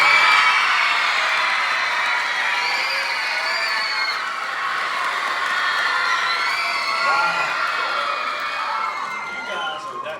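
A school assembly crowd, largely children, cheers and shouts for a school board member: sustained loud whooping and yelling that carries on for several seconds and fades slightly at the end.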